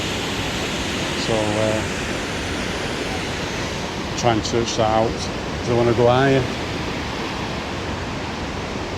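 Waterfall near the lakeside village of Hallstatt, Austria, on a rainy day, a constant broad rushing roar filling the background while someone talks in short bursts over it.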